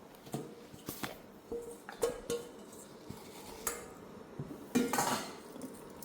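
Mushrooms go into a wok with close metallic clinks and knocks of cookware and utensils. The hits are scattered and irregular, with a softer rustle between them and no talking.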